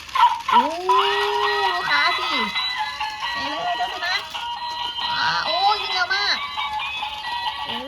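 Battery-powered toy dog switched on by lifting its tail, giving a run of electronic yips and barks with whirring as it runs, fairly loud and close, with someone talking over it.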